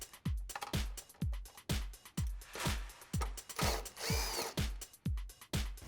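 A ratchet with a 10mm socket loosening grille bolts on a Toyota Tacoma, steady repeated clicking strokes in an even rhythm, close and clear, each pull ending in a low thunk.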